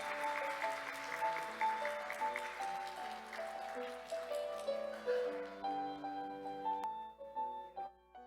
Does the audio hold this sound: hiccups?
no